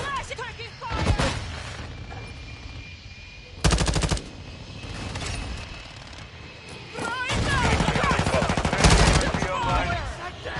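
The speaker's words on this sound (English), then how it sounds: "Taking fire!" Gunfire in Call of Duty Modern Warfare 2: bursts of automatic fire and sharp shots come in clusters across the clip, the loudest near the middle and toward the end, with game voices talking over the shooting.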